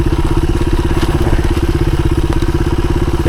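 A 1983 Honda XR200R dirt bike runs hard on a hard enduro loop, its single-cylinder engine making a loud, close, steady rapid thumping drone throughout.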